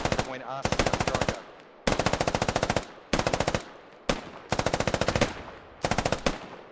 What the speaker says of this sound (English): Nice suppression fire.